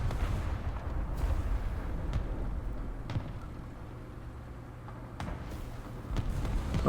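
Artillery strike explosions in War Thunder, dull booming impacts landing a few at a time over a steady rumbling battlefield backdrop, with no talking.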